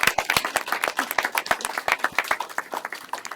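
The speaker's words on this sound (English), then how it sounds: "stand up and have a big applause" Audience at a Montgomery County 100,000 Homes Campaign event breaking into applause, a dense run of sharp hand claps at moderate distance, steady throughout with no voices.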